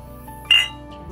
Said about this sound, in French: Et puis on va trinquer.